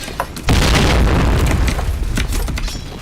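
A bomb blast in the video game Point Blank: one loud, booming explosion hits close and then rumbles and crackles off over the next few seconds, with no talk.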